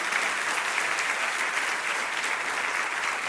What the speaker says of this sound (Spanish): Si vas a aplaudir al Señor, apláudelo con gozo y con alegría.